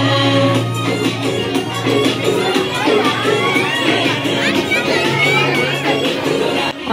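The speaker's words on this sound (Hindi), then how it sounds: "अभी यहाँ भीड़ हो रही है सब जगह." A dense crowd fills a school exhibition hall, with constant loud chatter and children's shouts blending into a steady babble that never lets up.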